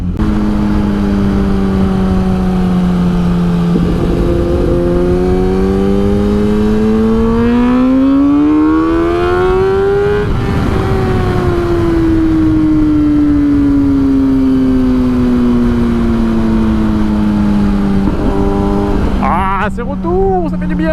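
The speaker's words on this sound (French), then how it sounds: "Ah puis la sensation moteur vraiment qu'on a à la remise des gaz." A 2017 Kawasaki ZX10R sport motorcycle revs hard and accelerates through the gears, its engine note rising and falling in long sweeps, loud and close throughout with no talk.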